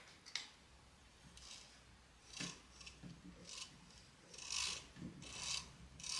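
A sewing machine's hand wheel is turned slowly by hand, giving soft, faint rubbing and light mechanical ticks in several short, separate strokes against a quiet background.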